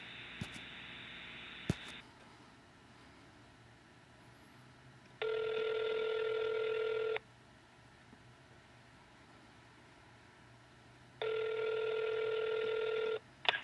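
Two separate bursts of a steady electronic telephone hang-up and dial tone, each lasting about two seconds, separated by quiet line hiss, with a short tone at the start.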